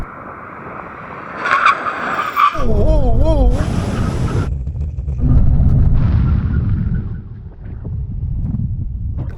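A Tesla Model S Plaid brakes hard during a runway brake test, with a loud rushing roar and a wavering tire squeal, then sustained low road and wind noise.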